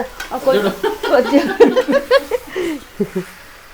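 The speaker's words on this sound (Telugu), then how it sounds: "మంచిగా అల్లంలో మటన్ ఏగుతుంది" Mutton frying with ginger in a pan sizzles and crackles close up, with stirring scrapes, under steady talk in Telugu and a brief chuckle.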